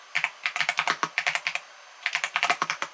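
Crisp, close clicks of fingers typing a search query on a computer keyboard, arriving in two quick runs separated by a short pause, with no voices present.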